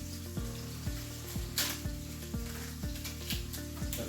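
Green chillies frying in a pan with curry leaves for a Kerala-style home-cooked dish, giving a steady sizzle with a regular thudding stir roughly every half second, fairly loud and close with no talk.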